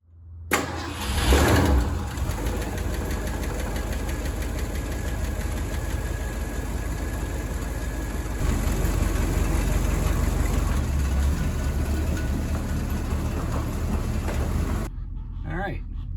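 A 1962 Ford Fairlane 500 V8 cranks and fires, then idles with a steady, deep rumble that swells slightly midway, loud and close for about fifteen seconds before cutting off.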